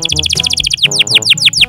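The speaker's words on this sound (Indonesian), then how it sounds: "Dan kenari ini tuh kalau gacor bener-bener mantep banget sih." A canary sings loud and close: a rapid run of repeated bright chirps, then slower descending whistled notes in a regular rhythm, with no voices.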